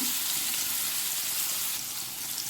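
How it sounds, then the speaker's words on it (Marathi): Semolina-coated Bombay duck fish fry in a hot pan over a high flame, producing a loud, steady, dense sizzle that fills the whole clip with no speech. "बोंबील आहेत ते सगळे फ्राय पॅनमध्ये टाकून झालेले आहेत"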